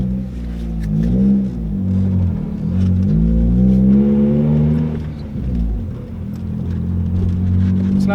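A 1997 Honda Civic Coupe with a 5-speed gearbox, exhaust droning heavily while driving: a loud, continuous low rumble with wavering pitch as the engine speed rises and falls, heard from inside the car with no talking.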